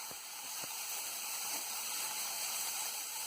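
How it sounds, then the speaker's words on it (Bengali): Small chopped coconut pieces frying in a pan for chholar dal, a steady soft hiss and sizzle with a few faint crackles, close and fairly quiet. "আমি এর মধ্যে নারকেল কুচিটা ভেজে নেব"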